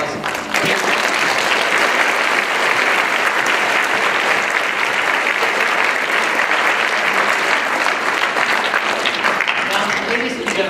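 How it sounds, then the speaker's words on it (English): Students and guests at a high school Veterans Day assembly give a long, loud round of applause, dense steady clapping from a large crowd filling a hall, holding at full level for about ten seconds. "Give yourselves a round of applause."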